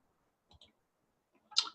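A few soft, faint clicks of a computer mouse at a desktop, one double click early and a sharper click near the end, otherwise quiet.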